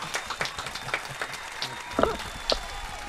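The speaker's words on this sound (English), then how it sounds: "give a big round of applause" Audience applause at a talk-show style event, a moderate crowd clapping steadily with scattered louder claps, fairly quiet and continuous with faint voices underneath.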